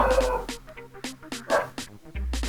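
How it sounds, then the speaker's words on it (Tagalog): A dog barks and yips repeatedly at close range, loud sharp bursts in an uneven rhythm with short whimpering notes between them, in a home setting. "Ang ingay ng aso."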